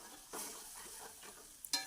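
Cauliflower being stirred in a pan just after water goes in, a short soft scraping and sizzle with a brief sharper clink near the end.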